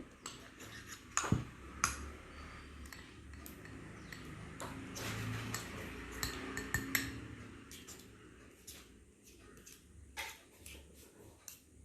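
Spoon scraping and clinking against a bowl while mixing a thick coffee scrub, a run of irregular taps and scrapes, close and fairly faint.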